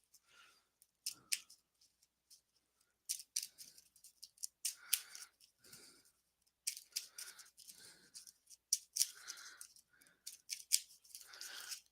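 Paper slips with driver names are shuffled in a hat, giving close, quiet bursts of crisp rustling and crinkling in irregular clusters separated by brief silences.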